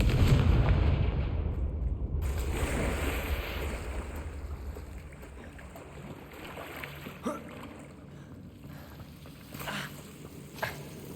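A fiery Confringo spell is cast in the Hogwarts Legacy video game, opening with a loud booming blast whose rumble fades over several seconds. A few sharper cracks and pops follow later.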